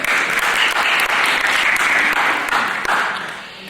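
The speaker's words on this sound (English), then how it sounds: "Give a big round of applause" An after-prom hypnotist show audience gives loud, continuous applause, a dense wash of many hands clapping close by that holds strong and tapers slightly at the end.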